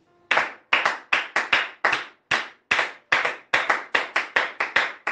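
A church congregation claps in acclaim for God, loud, sharp and close, in a steady rhythm of roughly sixteen claps with no talking.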